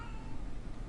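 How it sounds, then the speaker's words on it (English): A cat meows briefly and loudly, close by and rough in tone, filling the moment without talk. "Oh, that was a cat."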